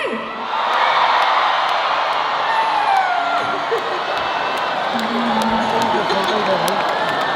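A large concert crowd at a live show in Hong Kong claps, cheers and whoops steadily for a guest's entrance, a continuous roaring wash of applause with scattered shouts.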